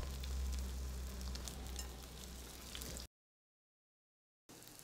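Salmon patties fry in a pan with a steady, close sizzle and crackle for about three seconds, then the sound cuts to silence before the sizzle briefly returns.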